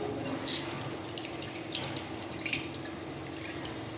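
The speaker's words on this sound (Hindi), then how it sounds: "इसका जो पानी है हम निचोड़ लेंगे पहले।" Water drips and trickles softly, with small splashes and patters as water is squeezed out of boiled vegetables and falls, no voices.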